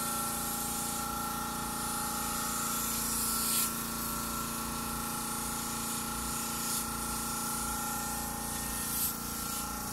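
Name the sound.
spray gun spraying paint on a car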